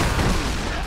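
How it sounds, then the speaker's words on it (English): A grenade explosion in the Yakuza 6 video game erupts as a short, dense burst of blasting noise, loud and broadband throughout. "The grenade!"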